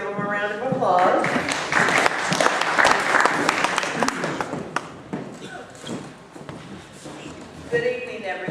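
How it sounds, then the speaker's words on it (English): Residents at a neighborhood association's general membership meeting give a lively round of applause, loudest at the start and then tapering, with some scattered voices over the clapping. "Let's give them a round of applause."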